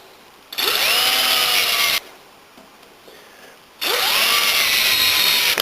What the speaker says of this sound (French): j'en fais un deuxième pour agrandir le trou au diamètre du fer